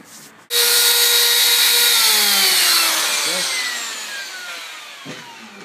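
A router rounds the outer edge of a wooden transmission-line speaker enclosure built for 8-inch drivers, a loud, close, high whine that cuts in abruptly, holds steady, then slowly winds down over several seconds.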